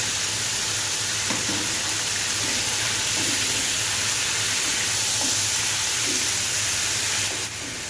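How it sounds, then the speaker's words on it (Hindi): Mutton liver sprinkled with salt frying on a tawa, a steady loud sizzle and hiss running throughout with occasional stirring clinks, no talk. "अब मैं इस कलेजी को हल्का सा ब्राउन करूंगी, लेकिन इससे पहले मैं इसमें ऐड करूंगी थोड़ा सा नमक"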